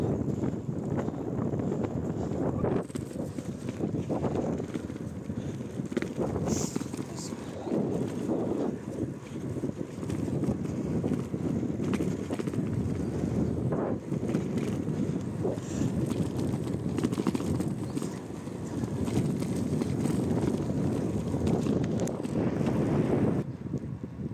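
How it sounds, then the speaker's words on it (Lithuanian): Strong, cold wind buffets the microphone throughout on a coastal headland at Ventės ragas, Lithuania, a continuous rough rumble with gusts rising and falling, loud and close. "vėjas šaltas labai"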